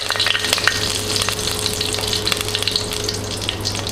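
Curry leaves and dried red chillies fry in hot oil for a fish curry, giving a close, steady sizzle and crackle with scattered sharp pops throughout.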